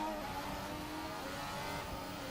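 A modern 2017 Formula Hybrid F1 car in a racing sim, driven at old Hockenheim, screams steadily at high revs near its red line, with a dense, continuous engine drone throughout.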